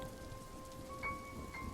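Steady rainstorm hissing evenly at low level, a dark, rainy night with rain falling on surfaces, alone without any talk.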